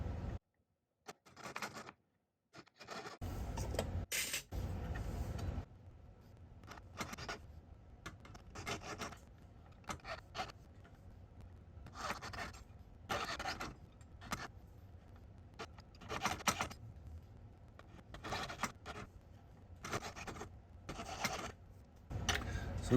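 A saw blade cuts a notch into a silver ring, making rapid, faint rasping strokes in short bursts with brief quiet gaps between them.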